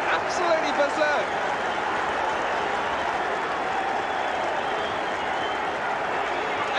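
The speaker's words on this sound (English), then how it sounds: "the crowd going absolutely berserk" A football stadium crowd roars after an equalising goal, with a dense, continuous wall of cheering and noise that holds steady throughout, loud and spread wide across the stands.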